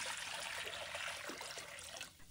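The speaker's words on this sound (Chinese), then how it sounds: "接着再起锅，倒入足量清水" A generous amount of fresh water pours into a wok on the stove, a soft, continuous trickling splash that fades slightly toward the end, with no talking.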